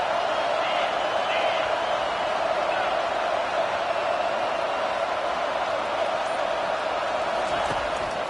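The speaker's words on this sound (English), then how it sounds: "Here comes this home crowd as the defense tries to get off the field on third down." Home crowd roaring at a college football game, BYU at MSU, as the defense tries to get off the field on third down; a steady, loud wash of crowd noise fills the whole stretch while a commentator talks over it.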